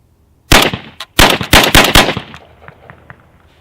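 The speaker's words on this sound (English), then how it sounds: "Let's see if we can fire that magazine with one more." A KRX Tactical 12-gauge shotgun fires Remington 7.5 shot target loads in five sharp, loud blasts in quick succession. A single early shot stands apart from the rest, and the reports fade into a faint echoing tail.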